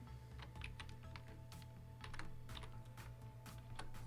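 Typing on a computer keyboard while filling in a spreadsheet, a faint, steady patter of key clicks over a low background hum, with no speech.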